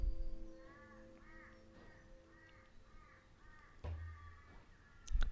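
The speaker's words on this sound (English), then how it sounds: "The birds are singing." Crows caw over and over at a moderate distance, harsh repeated calls layered over a low, steady drone, with a sharper knock near the end.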